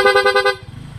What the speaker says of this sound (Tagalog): Pag bumusina po tayo, meron tayong rapid horn saka combo light.